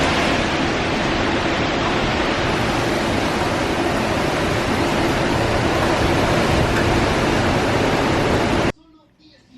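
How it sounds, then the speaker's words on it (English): Strong, steady wind roaring through trees during Hurricane Ian, near and loud for most of the stretch with constant broadband rushing, then cutting off abruptly near the end. "I like the sound of the wind going through the trees"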